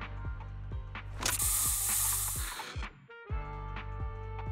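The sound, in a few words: bamboo spray being sprayed in Zenless Zone Zero video game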